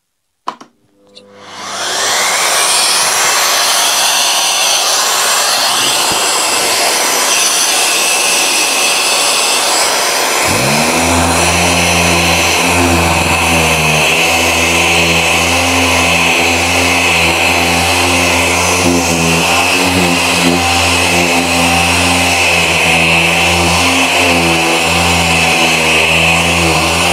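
A P.I.T. PDS20H-125A cordless random orbital sander runs steadily on an old, dirty wooden board. It makes a loud, continuous motor whine, and partway through a dust extractor vacuum attached to the sander joins in with a lower, constant hum.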